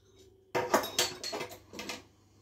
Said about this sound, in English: And it's going in a hobgoblin glass